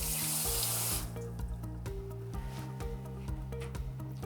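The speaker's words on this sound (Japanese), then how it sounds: "よく水洗いして" Sardines are rinsed under a running kitchen tap, a loud rush of water for the first second, then quieter splashing and tapping as the fish is handled in the sink.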